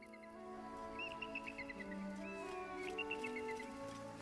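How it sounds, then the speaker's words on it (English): Birdsong in a Baldur's Gate 3 game zone: bright, quick chirps and whistled trills come in short repeated bursts over low sustained background tones. "What bird sounds they used for this zone?"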